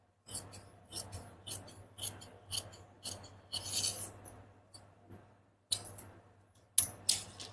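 Steel scissors snip through blouse fabric being cut into pattern pieces, a rhythmic run of close, crisp cuts with short pauses between strokes and no talking.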